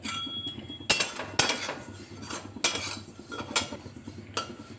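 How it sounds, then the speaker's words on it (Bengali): Ajwain seeds are dry-roasted in a pan and stirred with a metal spoon, producing repeated sharp clinks and scrapes against the pan over a faint background hiss, close and intermittent. "এবারে ভেজে নিচ্ছি জোয়ান"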